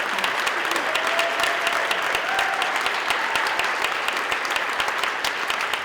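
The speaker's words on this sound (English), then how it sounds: "Let's give them a round of applause" A crowd applauds at a career and technical college commencement ceremony, dense sustained clapping throughout with a faint voice now and then underneath.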